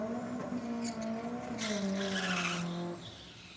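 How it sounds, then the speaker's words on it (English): A 4WD drag-racing car with a Hilux-derived engine, running at a night race meeting, gives a falling engine note and a sharp burst of turbo blow-off hiss, heard from a distance with no voices. "I hear a turbo blowing off there"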